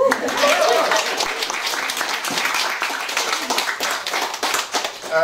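An audience at an evening political discussion event greets the moderator with warm, steady applause, dense and sustained, fairly loud and close, with no talking over it.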